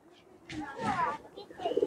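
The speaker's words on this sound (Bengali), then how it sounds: "অনেকগুলো কবুতর আছে ভিতরে, অনেকগুলো কবুতর আছে" Many pigeons cooing inside a small home pigeon house, soft throaty coos rising and falling at close range, with a voice speaking nearby.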